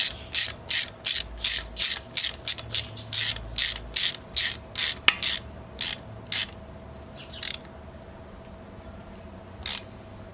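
A ratchet wrench clicks in quick bursts while tightening 13mm bolts on a Cobalt SS short block, a rapid run of ratcheting strokes that thins out to a few isolated bursts toward the end, close and fairly quiet.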